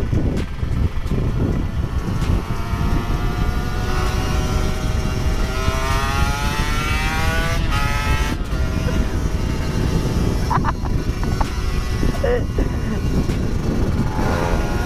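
A motorcycle engine, a 150cc two-stroke Ninja or a 250cc CBR, drones loudly and rises in pitch as the rider accelerates on a rough road, with wind roar throughout and brief voices.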